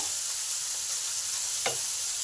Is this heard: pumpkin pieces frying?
yes